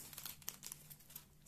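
Thin plastic crinkles and rustles in short, quiet bursts as a small packet of square diamond-painting rhinestones is pulled open up close.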